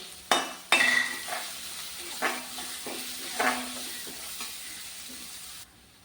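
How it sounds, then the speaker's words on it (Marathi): Finely chopped onion sautéing in spiced oil, a light sizzle punctuated by several metallic clanks and scrapes of a spoon against the pan before it quietens. "एक मी मध्यम बारीक आकाराचा कांदा चिरून घेतलाय, तो सुद्धा आपण चांगला लालसर होईपर्यंत परतून घेऊया"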